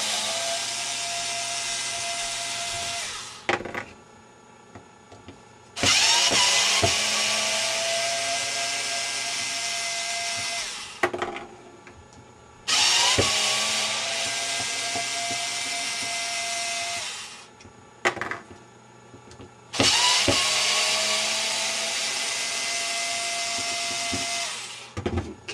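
A power tool whirs at high pitch in three long bursts, each lasting several seconds with short pauses between them, as it drives out tough stainless steel screws on an airsoft RPG build.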